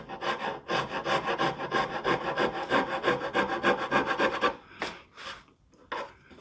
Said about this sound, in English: Some 80 grit sandpaper. Smooth everything out.